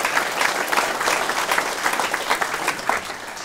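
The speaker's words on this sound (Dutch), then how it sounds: "Applaus, gefeliciteerd." A council meeting audience applauds new council members after their swearing-in, a dense burst of clapping from many hands filling the room, loud and close, with no talk over it.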